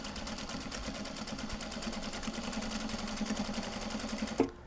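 A domestic sewing machine runs steadily while stitching a Japanese fabric bag, a rapid even mechanical whir and clatter at close range that stops abruptly near the end.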